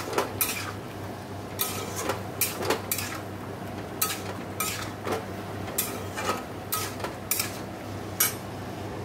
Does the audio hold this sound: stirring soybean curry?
yes